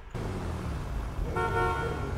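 A car horn in GTA 5 roleplay, sounding for about a second over a steady engine and road rumble, loud and close.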